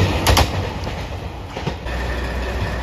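A JR Shikoku 2600 series limited express diesel railcar passes a station with a steady rumbling roll and rail clatter, a few sharp clicks near the start, heard fairly close with no talking.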